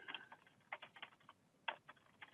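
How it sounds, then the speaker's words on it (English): Computer keyboard typing in a few short bursts of close, crisp key clicks separated by brief pauses, with no voices. "so I'm just going to type in 4."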